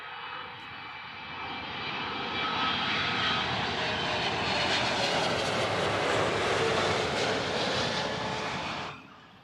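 A jet airliner roars past at Heathrow Airport. The engine noise swells to a loud, broad rumble and then cuts off near the end, with no talking.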